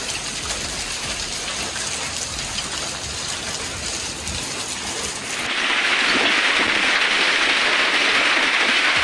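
Heavy rain pours steadily in a loud, dense hiss during a thunderstorm with rumbling thunder beneath, the downpour swelling even louder and brighter partway through.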